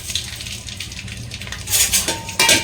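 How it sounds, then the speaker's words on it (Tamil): Garlic drops into hot oil in an uruli pot, bringing metallic clinks and clatter close by, then two sudden bursts of crackling sizzle near the end. "ஹீட் ஆயிடுச்சு. ஆயில் சேர்த்துக்கலாம். பூண்டை சேர்த்துக்கிறேன்."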